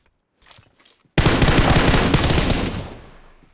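A sudden long, loud burst of rapid automatic gunfire strikes a vehicle tire up close after faint shuffling, the rattling volley continuing for about two seconds before tapering off.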